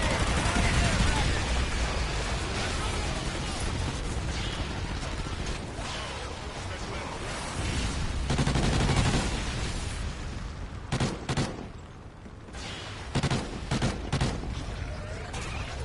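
Dense gunfire in the video game Extinction as players shoot the Hive, a steady roar of shots with sharp bursts near the end and speech mixed in.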